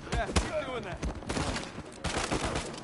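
Bursts of gunfire in the video game Uncharted 4, several rapid shots and volleys in quick succession, loud and close, with a voice faintly heard among them.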